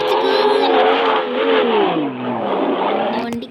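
A car engine revs in the online driving game Drive Zone Online, a loud, continuous engine tone rising and dipping in pitch as the car climbs, with a player's voice talking over it.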